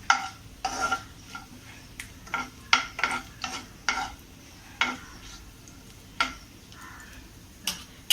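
Garnish for rice payasam frying in a pan, a quiet sizzle under repeated sharp ladle taps and scrapes at an irregular rhythm, close and without talk.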